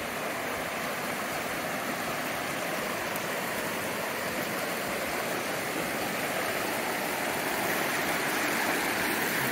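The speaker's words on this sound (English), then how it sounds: "Looks like it'll be some quality wading." Steady rushing of fast shallow stream water on a hike toward Mt Sizer in Henry Coe State Park, a continuous close broadband wash with no talk.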